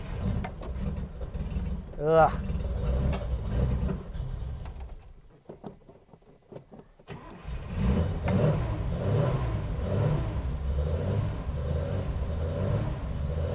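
A home-built Datsun 240Z engine cranks, catches and revs, a deep rumbling idle swelling into louder throttle blips after a short quiet gap, with a brief voice over it.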